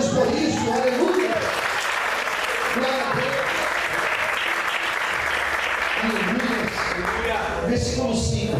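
A church congregation applauds loudly and steadily throughout, dense clapping filling the room with a murmur of voices beneath it.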